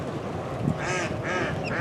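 Farm-raised ducks quack in a few close, nasal bursts over a steady rumbling background, with no talk.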